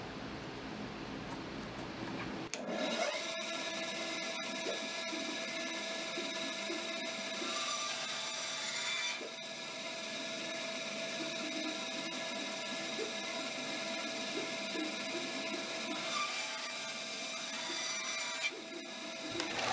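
Wooden dowels are cut to length for a picture frame, giving a sudden onset of a sustained machine whine with a steady tonal drone and faint mechanical clicking and rasping underneath, nearby and continuous for most of the span.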